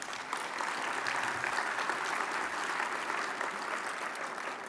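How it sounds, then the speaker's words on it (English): Warm round of applause from a sold-out ballroom crowd at a summit opening session, steady even clapping from many hands, moderately distant and continuous. "give another warm round of applause to the Mariachi Divas"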